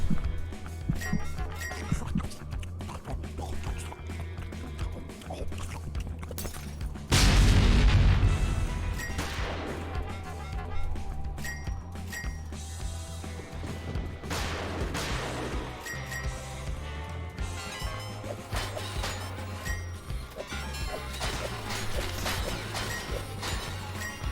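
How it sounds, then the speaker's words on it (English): Explosions rip through a battle at Rainbow Bridge in the game Thongs of Virtue, with a heavy boom bursting out around the middle over a steady rumble and a clatter of smaller blasts and impacts. "Everything's exploding."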